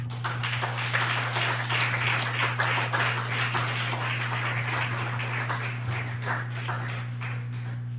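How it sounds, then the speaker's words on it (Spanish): A church congregation claps in praise of the Lord, steady dense applause from the room over a constant low electrical hum, with no talk during it. "¿Por qué no le dan un aplauso al Señor?"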